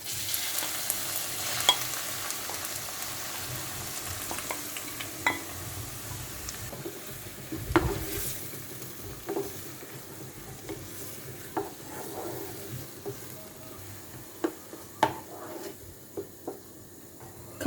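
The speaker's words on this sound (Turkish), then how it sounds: "Kızan yağın içine 2 adet nimetlik doğradığımız soğan ilave ediyoruz." Chopped onions sizzle and fry steadily in hot olive oil in a pan, with occasional stirring scrapes and clicks of a utensil, fairly quiet and close.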